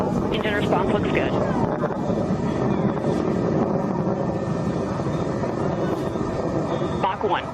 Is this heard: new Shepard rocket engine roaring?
yes